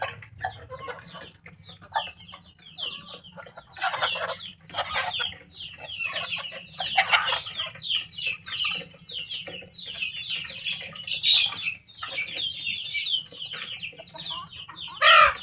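Hens and chicks cluck and chatter continuously on a small farm, a busy flock of overlapping short calls nearby, with a louder squawk near the end.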